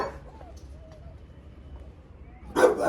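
A dog barking, a short burst of loud close barks near the end after a quieter stretch with faint background sounds.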